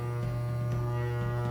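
A serger runs continuously along a fabric edge to gather it, giving a steady droning motor hum with a fast underlying stitch buzz, close and even throughout the short stretch.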